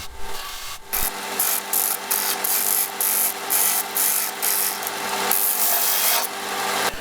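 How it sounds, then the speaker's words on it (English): A 15mm copper pipe ring being sanded on a belt and disc sander in a workshop, a steady close rasping grind with a constant motor hum that runs for about seven seconds, briefly dipping near the start. "Do some final sizing up on the belt sander and disc sander."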